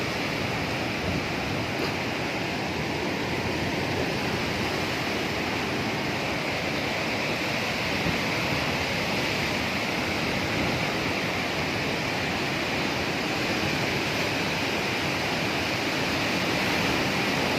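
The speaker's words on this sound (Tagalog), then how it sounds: "Grabe ang hangin, grabe ang lakas ng ano ng hangin." Strong typhoon wind roars steadily and loudly throughout during Typhoon Odette, a continuous broad rushing noise with no pauses and no voices.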